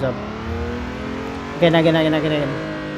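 A car engine revs at full throttle during a drift attempt with the clutch kicked, droning steadily before surging louder about halfway through, its pitch climbing, close and loud.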